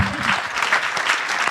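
A theatre audience at a screening claps together in a dense, even burst of applause, close and loud, with no voices over it.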